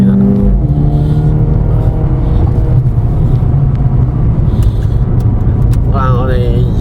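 Mercedes-Benz AMG CLA35 accelerating on a road test drive, a loud steady engine drone rising in pitch, heard from inside the cabin with a voice at the end.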